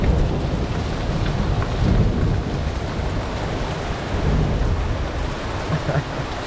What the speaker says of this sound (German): Gewitter ist schon was Schönes.